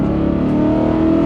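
BMW E92 M3 with the S65 V8 pulls hard under acceleration, a loud, steady close-up engine drone with layered harmonics holding throughout the short burst, no voices.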